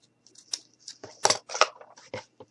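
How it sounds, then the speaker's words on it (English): Scissors snip through ribbon in a quick series of crisp cuts and rustles, close up and otherwise quiet. "So now I'm going to take my scissors and we're going to make a bow."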